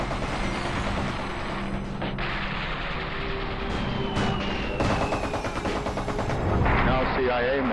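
Gunfire in street fighting around the US Embassy in Saigon during the Tet Offensive: scattered shots and short bursts with booming reports over noisy background, some sounding distant and others nearer.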